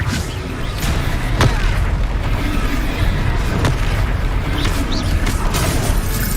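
Confringo blasting curse explosions in the Hogwarts Legacy video game, dense booming bursts and crackling blasts layered over a rumbling battle mix, loud and continuous.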